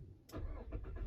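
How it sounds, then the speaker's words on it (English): A used car's engine cranks and fires up inside the cabin, a sharp starter onset followed by a steady rumbling idle, fairly close and loud, with no talking. "I should start the engine when you're doing that."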